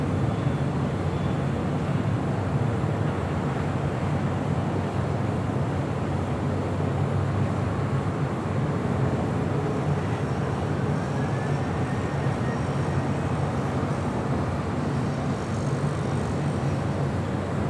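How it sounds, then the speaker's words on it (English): JetBlue Airways Airbus A321 departing LAX on the south side: a steady, loud, broadband engine roar holding evenly throughout, with no voices. "Next departure here on the south side is JetBlue Airways, flight 524, heading to JFK. It's an A321."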